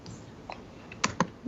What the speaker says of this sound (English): I'm clicking things and nothing's happening.